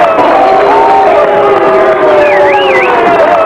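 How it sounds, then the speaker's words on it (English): Shipyard workers in Portland, Oregon crowd together and shout at a 1988 vice-presidential visit, loud continuous mass of voices with whoops and cries and no clear single speaker. "the vice president was booed by shipyard workers chanting "Union Buster,""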